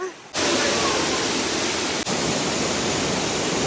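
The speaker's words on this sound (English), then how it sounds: "But now we're going to go underneath this waterfall." An Icelandic waterfall roars at very close range, a dense, loud, constant rush of falling water that starts abruptly and fills everything, briefly dipping once before returning.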